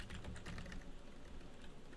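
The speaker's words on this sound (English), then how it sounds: "So we will type in leaderboard" Rapid clicking of keys on a computer keyboard as someone types, a quiet, close, irregular patter of keystrokes with no speech over it.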